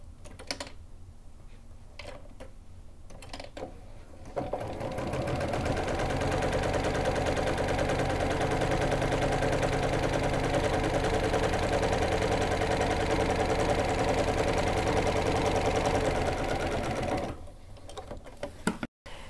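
A sewing machine stitches cross hatch quilting lines, starting with a few short bursts, then running steadily at a fast, even whir for about thirteen seconds before stopping, with small handling clicks around it.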